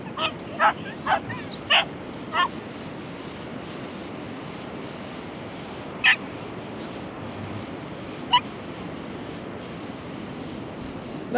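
Several dogs on a beach give a quick series of short barks and yips early on, then a few scattered single barks over a steady background of wind and surf.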